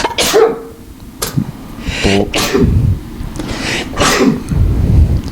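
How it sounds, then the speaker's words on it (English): Several sneezes in quick succession, loud and close, each a sharp burst with short pauses between. "I gotta sneeze."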